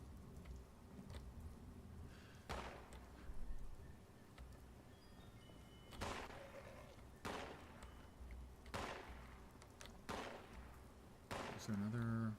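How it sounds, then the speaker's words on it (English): Gunshots crack at a distance in Fallout 76, several sharp isolated reports spaced irregularly over a low, muffled ambient bed. "Somebody is shooting out there."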